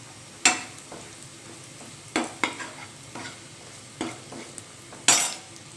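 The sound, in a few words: onions frying in a pan with chilli powder and turmeric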